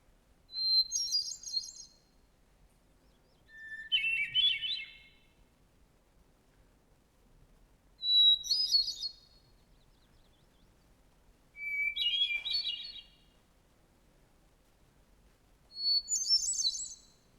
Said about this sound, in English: One of the bird musicians most beloved for its song in North America is the hermit thrush.